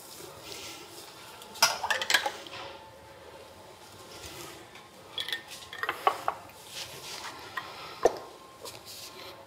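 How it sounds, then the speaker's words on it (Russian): A lid is closed onto a glass jar of plum jam, giving a few sharp clinks and scrapes of metal on glass in short bursts, spaced out over quiet room noise. "И закрываем крышкой."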